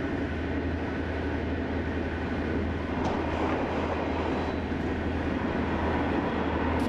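A train rolls along railway tracks in a steady, continuous low rumble with a constant hum, growing slightly louder toward the end, heard without any voices.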